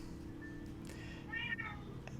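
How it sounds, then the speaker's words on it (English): A cat meows a few times, short and fairly faint, over a low steady hum of background noise in an indoor space. "And the occasional sound of a cat."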